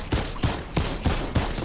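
Bursts of gunfire in Fortnite, five evenly spaced loud shots about a third of a second apart, close and punchy with no talking over them.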